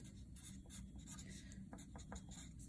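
A pen writes out labels on paper in a chemistry setup with solids on a hot plate, giving a quick series of light scratchy strokes close up against a low background hum.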